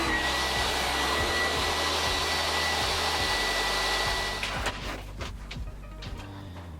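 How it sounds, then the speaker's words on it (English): A power tool cuts grooves about 3/16 inch wide and deep into wooden drawer sides for the drawer bottom, a steady loud whine with a rapid rhythmic pulse underneath that stops partway, leaving scattered knocks and handling noise. "Here I'm cutting the grooves for the drawer bottom to fit into the sides and the front."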